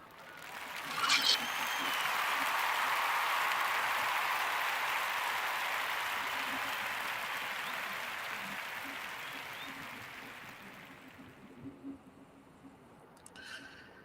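A wash of crowd applause swells, then slowly tapers over roughly ten seconds, fairly faint and distant, before thinning out to quiet with a few scattered sounds.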